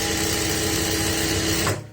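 A sewing machine stitches a half-inch seam on a princess-cut kurti, running in a fast, even whirring chatter for nearly two seconds before stopping abruptly.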